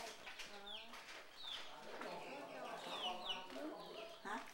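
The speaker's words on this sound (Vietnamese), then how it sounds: "Này chuồng gà của cô Bảy hả?" Chickens in a home coop in rural Long An, Vietnam, cluck and squawk almost continuously, several birds overlapping at close range with short rising calls and busy chatter.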